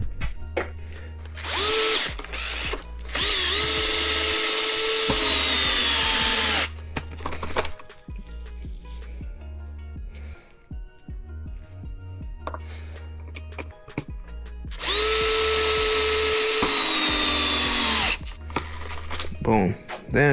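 Power driver fastening 2.5 mm hex screws into the body mount of a Redcat Vigilante RC car, two loud sustained whirring runs several seconds long separated by quieter handling clicks and taps, with some talk in the gaps.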